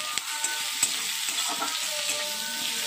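Onion sizzles in mustard oil with dried red chillies and five-spice, a steady bright frying hiss with small pops and light stirring scrapes, close and without speech.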